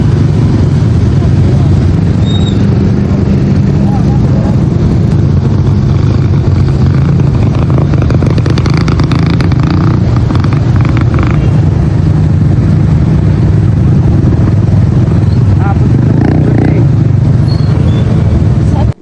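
Motorcycles ride through deep flood water on roads in Pampanga during monsoon rain, a loud continuous engine drone with churning water and wind noise close up, with a person speaking over it.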